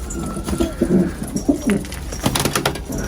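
Low, throaty pigeon coos repeat in short bursts over a steady rumble of background noise, with a few sharper clicks and rustles.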